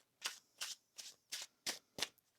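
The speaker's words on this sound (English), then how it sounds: "One more shuffle." Tarot cards being shuffled, six crisp riffling bursts at an even, quick rhythm, close and fairly quiet, with no talking.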